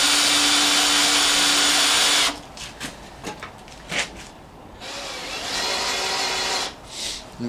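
A power drill with a bit runs at full speed in a long, steady whine, stops, and then starts again after a stretch of clicks and clatter.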